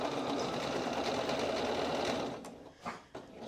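Sewing machine stitching a pant leg of fabric along a folded edge, a steady close whir running for over two seconds before stopping, followed by a few soft handling sounds.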